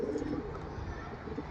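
Giribaz pigeons kept as a male and female pair coo softly nearby in low, rolling throaty phrases, quiet and continuous.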